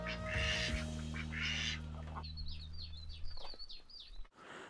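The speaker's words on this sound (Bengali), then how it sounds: "এর ভেতরে আবার হাঁস মুরগি আছে" Ducks on a model farm in Rinchenpong village, West Sikkim, give a quick run of about half a dozen faint, nasal quacks after a steady mechanical hum fades, heard from a short distance.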